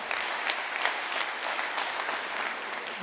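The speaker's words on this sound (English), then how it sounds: "Let's have a big round of applause for Brian." An audience applauds steadily after a talk, a dense, even patter of many hands clapping at moderate volume, with no voices.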